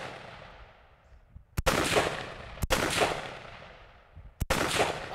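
Three loud rifle shots crack at a Texas Star steel target on an outdoor range, spaced about a second or two apart, each with a sharp report and a trailing echo, with no talking.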